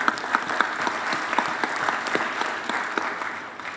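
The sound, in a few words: audience applause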